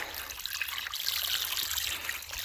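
Water trickling down a small rock spillway draining a moat, a steady close babbling flow with light splashy texture, continuous and unbroken, no talk.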